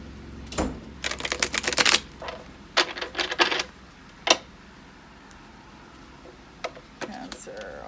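Tarot cards are shuffled in quick bursts of crisp, clattering riffles, close and fairly quiet, separated by short pauses and followed by a few isolated snaps.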